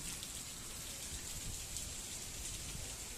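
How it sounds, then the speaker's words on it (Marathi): Torrential downpour, a dense, steady hiss of heavy rain pounding surfaces, continuous and fairly loud throughout with no pauses and no talk. "आज आमच्याकडे तुफान पाऊस आलाय."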